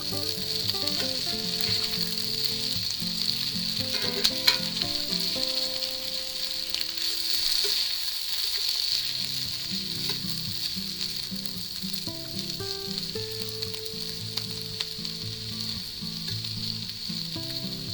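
Home fries potatoes crackle loudly in a hot pan as green onion bottoms are tossed in, a dense continuous sizzle with brief stirring scrapes, close and steady throughout.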